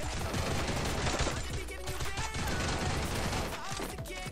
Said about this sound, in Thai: ผมแค่ซ้อมปืนครับน้อง